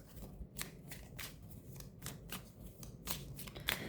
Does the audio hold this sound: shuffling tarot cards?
yes